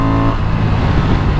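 A 2023 Honda Transalp XL750 motorcycle engine accelerating hard in second gear, a loud close-up roar that rises as power comes on.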